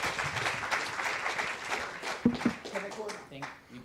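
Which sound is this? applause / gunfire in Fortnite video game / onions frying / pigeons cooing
applause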